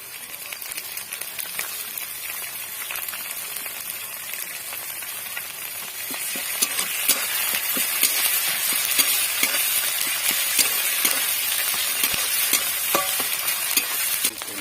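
Onions, green chilies and ginger-garlic paste sizzle steadily in a hot pan, with scattered clicks and scrapes of stirring that grow a little louder partway through.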